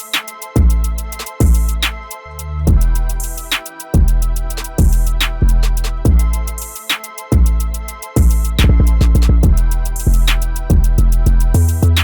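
A full hard trap beat plays with all parts together: booming kicks and 808 bass, snappy hits and rapid hi-hat rolls over melodic layers, steady, loud and dense, with no talk.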